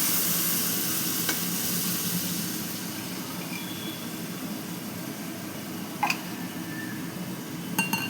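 Sour yogurt added to a curry simmering in a pan over low gas, giving a soft continuous sizzle with a few faint clinks of a spoon against the pan.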